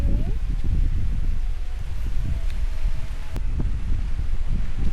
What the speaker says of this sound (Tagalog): Hangin, no?